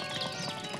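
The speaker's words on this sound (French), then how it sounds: "Tiens, son cheval!" Horse hooves clip-clopping in a Lucky Luke cartoon episode, a short burst of rapid hoofbeats heard alone without speech.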